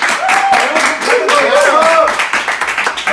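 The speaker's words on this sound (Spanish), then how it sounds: "¡Un aplauso, por favor!" Audience clapping and cheering at a cooking contest after a dish is finished, a steady burst of applause with excited voices shouting over it.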